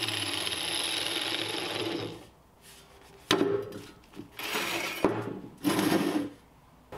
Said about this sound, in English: I got to be super careful with the grinder here because this metal is so thin.